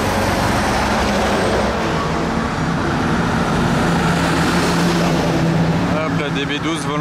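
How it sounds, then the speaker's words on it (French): Aston Martin DB12 Volante driving past at a Gumball 3000 rally stop in France, a steady loud engine and road roar filling the whole stretch amid traffic noise, with voices underneath. "La DB12 volante."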